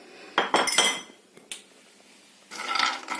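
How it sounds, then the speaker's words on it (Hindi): Almonds tipped into a pan for dry roasting after cashews, giving a burst of close clattering and clinking, a lone tap, then a softer rattle of nuts shifting against the metal. "बादाम डाल लेते हैं काजू के बाद।"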